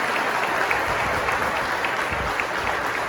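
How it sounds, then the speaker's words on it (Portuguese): Audience applause for the guests at a Bible symposium, a dense steady clapping from a crowd that holds at an even level for the whole stretch, with no speech over it. "pedir uma salva de palmas para os convidados"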